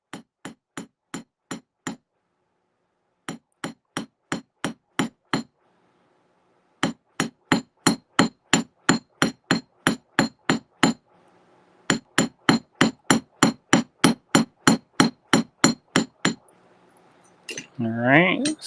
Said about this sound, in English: So this way you have more precision over where your hammer strikes fall.